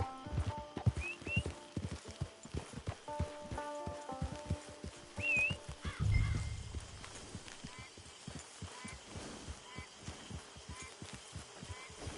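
Horse hooves clip-clop at a walking pace in Red Dead Online, steady soft thuds under game ambience with a faint whinny and a short low rumble partway through.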